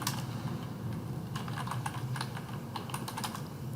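Typing a category name on a computer keyboard in billing software: a steady run of light, close key clicks in irregular bursts over faint room noise, no one speaking.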